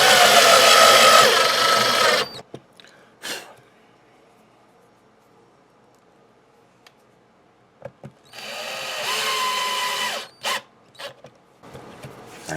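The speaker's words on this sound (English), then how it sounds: "And then we just screw this down." A power drill drives screws into the body of a Stratocaster guitar kit in two loud whirring bursts, each about two seconds long and separated by quiet, followed by short clicks and handling noises.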